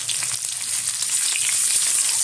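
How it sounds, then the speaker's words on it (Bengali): Chopped onion frying lightly in hot oil for a mixed ghugni, a steady close sizzle that runs unbroken throughout with no talking. "পেঁয়াজটা হালকা ভেজে নেবো"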